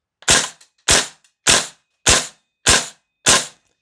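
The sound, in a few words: VFC V3 URGI M4 gas blowback airsoft rifle firing semi-auto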